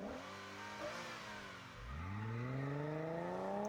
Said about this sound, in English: Listen to that car noise!